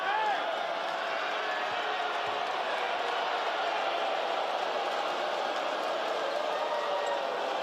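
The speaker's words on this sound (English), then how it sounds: "Crowd not happy about that one" An indoor arena crowd at a professional basketball game between the Kaohsiung Steelers and Formosa Taishin reacts to a foul call with a dense, steady roar that holds at a loud level throughout.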